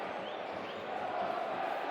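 Football crowd at a Bristol City vs Millwall match, a steady distant roar of massed voices with a faint chant, heard as continuous background with no clear individual speech.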